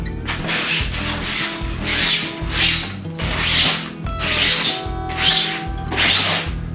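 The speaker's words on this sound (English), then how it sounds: "So I'm gonna use a broom and see if I can't get some of that sand off of the tent." A broom brushes sand off the walls of a beach camping tent, the bristles rasping in repeated back-and-forth strokes, close and fairly loud, with no talking.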